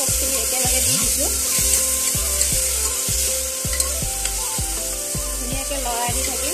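Onions frying with ginger-garlic paste in a pan for egg biryani, a steady broadband sizzle under repeated scraping strokes of a spoon stirring at a regular rhythm, close and fairly loud, no talking.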